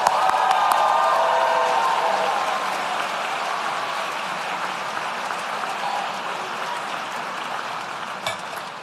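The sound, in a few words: applause for graduates at a graduation ceremony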